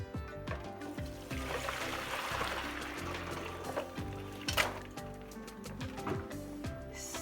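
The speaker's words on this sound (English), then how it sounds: "I am going to be pouring the hot water off of the saltfish." Hot water poured off saltfish into a kitchen sink, a continuous splashing and trickling pour at close range with no voice.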